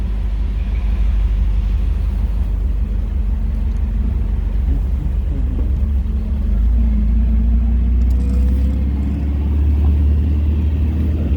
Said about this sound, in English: Apparently there's a race car out here.